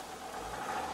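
Renault Avantime engine idling just after a cold-morning start, a steady close mechanical hum with a faint rattle, brief and alone.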